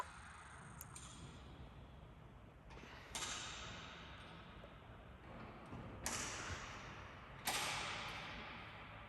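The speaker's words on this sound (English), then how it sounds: "they're locking the doors now" Heavy church doors in Si Racha, Thailand being closed and locked, several creaking swings and clunking latches spaced a few seconds apart, each followed by a hollow echo in a large resonant interior; no speech.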